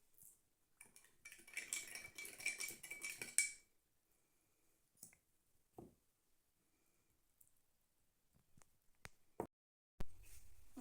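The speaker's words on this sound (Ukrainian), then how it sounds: "В першу склянку додаємо чайну ложку цукру." A teaspoon clinks and scrapes against a glass in a quick burst of stirring sugar, followed by quiet and a few scattered clinks and taps.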